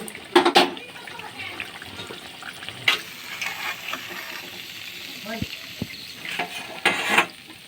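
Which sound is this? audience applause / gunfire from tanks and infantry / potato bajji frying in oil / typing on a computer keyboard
potato bajji frying in oil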